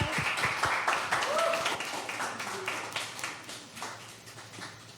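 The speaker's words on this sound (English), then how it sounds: "Can you guys give yourself a round of applause?" A small audience at a relationships and mental health talk claps in a brief, uneven round, individual claps thinning out as a voice briefly comes through.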